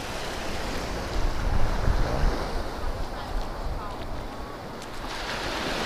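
Steady wind buffets the microphone while waves roll and wash continuously in the background at Orient Bay Beach, St. Maarten, with no pause in the rushing noise.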